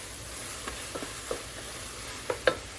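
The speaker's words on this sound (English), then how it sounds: "I'm getting all that taco seasoning all the way through it" Ground meat with taco seasoning stirred in a sizzling pan, a soft continuous fry with several scraping spoon strokes, the last two near the end louder and sharper.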